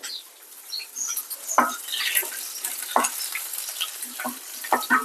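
Garlic sizzles and crackles in hot tempering oil with dried red chillies, with a spoon stirring in short scraping bursts over a steady fry.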